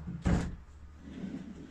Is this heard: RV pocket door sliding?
yes